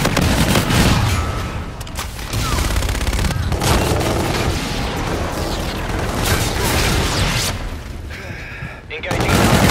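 Call of Duty: Infinite Warfare gunfire, a continuous loud barrage of automatic shots and booms in a combat scene, with dense mechanical clatter throughout.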